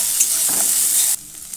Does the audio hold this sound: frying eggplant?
yes